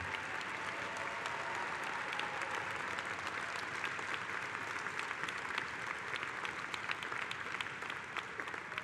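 A large convention audience claps steadily for about nine seconds, a dense, even wash of applause with no voices breaking through.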